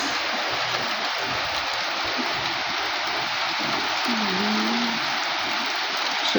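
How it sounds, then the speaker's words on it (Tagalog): Rain pouring outside a house, a constant broadband patter and hiss of drops on surfaces, steady and unbroken, with a faint brief tonal sound midway. "Umuulan na po."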